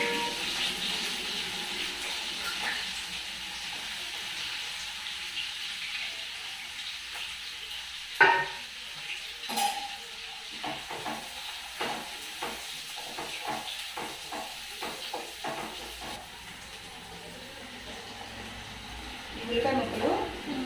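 Chopped onion pieces sizzle and fry in a pan with chana dal and other seasonings, a soft continuous crackle broken by stirring clatters of a spoon, and a voice speaking over it.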